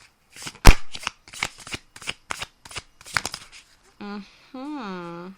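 Tarot cards are shuffled and drawn at close range in a series of quick crisp riffle bursts, followed by a voice at the end.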